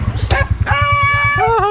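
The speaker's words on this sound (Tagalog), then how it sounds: "Dami aso." Several dogs barking and yipping close by at a rural roadside while cycling, with rapid repeated barks, a whining yelp, and a voice partly mixed in.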